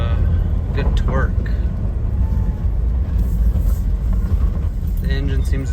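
A Jeep TJ Wrangler fitted with a swapped-in 5.9 Magnum V8 runs with a steady, loud low rumble that dominates throughout, with someone talking over it.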